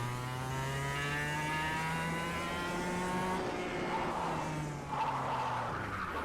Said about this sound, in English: oh no, so easy to spin the car out.